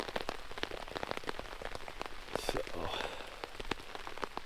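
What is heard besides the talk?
rain falling on a campsite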